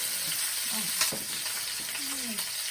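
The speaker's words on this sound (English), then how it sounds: "I'm ready to add the ginger, garlic, and sugar, and stir fry for 1 minute" Ribs stir-fry with ginger, garlic and sugar in a hot pan, giving a steady loud sizzle throughout, with a utensil scraping and clinking against the pan now and then.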